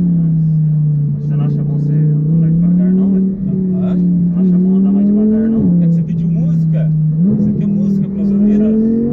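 An Audi R8's engine drones steadily from inside the cabin during a ride-hailing trip, its pitch climbing and dipping slightly as the car speeds up and eases off. The loud hum runs without a break.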